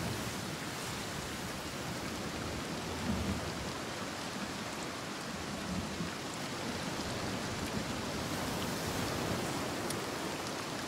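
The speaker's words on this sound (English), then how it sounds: "We've been in a lot of rain," Steady heavy rain in Senua's Saga: Hellblade II, a dense unbroken hiss of falling water with low rumbling underneath, continuous and fairly loud throughout.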